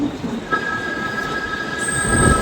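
At Dadar railway station in Mumbai an express train rumbles close by, its wheels squealing in sustained high tones over a dense, rising rail roar, with no talking.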